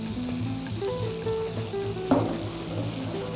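Garlic and guindilla chili sizzle in hot olive oil in a pan, a continuous close frying hiss with a brief louder clatter as the pan is shaken partway through.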